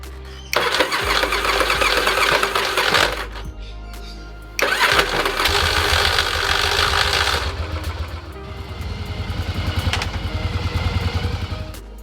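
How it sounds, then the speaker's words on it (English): A 1981 Yamaha XV750 Virago motorcycle engine cranks and fires up twice, catching with a loud rough roar, then settles into a rumbling idle close by. "The thing I really dislike about this bike is the way it sounds when it starts."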